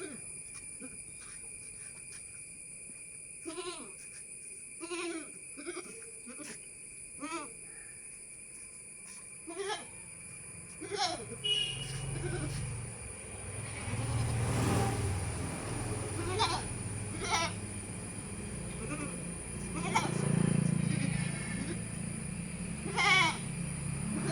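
A six-month-old female Sirohi cross goat kid bleats repeatedly in short, wavering calls spaced a few seconds apart, over a constant insect drone, with some rustling and low background noise later.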